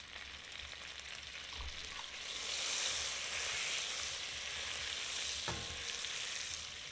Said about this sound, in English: I'm going to add just a bit of butter to lock in that color.